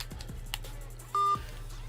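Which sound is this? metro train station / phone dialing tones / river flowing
phone dialing tones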